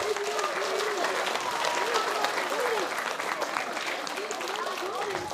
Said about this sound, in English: I would like you all to give each other a huge round of applause for your wonderful imaginations